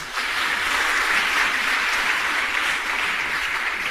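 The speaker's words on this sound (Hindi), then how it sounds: "अगर आपको गौरव लगे तो ताली बजाना" Steady, dense crowd applause from an audience at a Vishva Hindu Parishad speech on Jain history, loud and unbroken for about four seconds with no talking over it.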